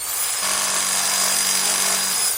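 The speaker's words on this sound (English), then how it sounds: "Here's a saw to help cut down my mortgage." A hand saw cutting through wood, a steady sustained rasping stroke that runs close and loud for about two seconds with no talk over it.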